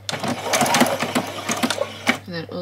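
Short bursts of a sewing machine back-stitching a doll's dress, quick rhythmic needle chatter that starts and stops, with a voice talking over it near the end.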